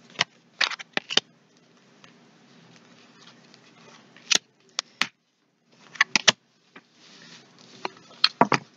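Oracle cards are shuffled and drawn, giving bursts of crisp riffling and flicking separated by quiet gaps, close and clear with no talking.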